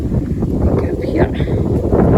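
Gusty wind buffets the microphone outdoors near Torwood Castle, a steady low roar that rises and falls in strength throughout, loud and close, with faint traces of other sounds beneath.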